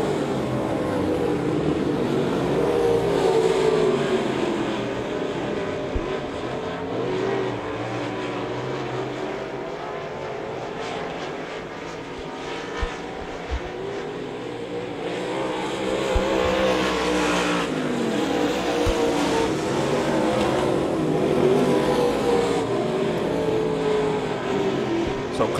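Race cars roar down the front straightaway at Devil's Bowl Speedway, a continuous loud engine drone with cars sweeping past in rising and falling waves and occasional sharp knocks.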